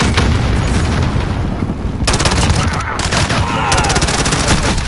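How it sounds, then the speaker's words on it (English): Call of Duty Modern Warfare game combat: rapid bursts of gunfire and booming grenade blasts fill the mix continuously, loud and dense, with brief shouted voices underneath. "Grenade out. Flash out."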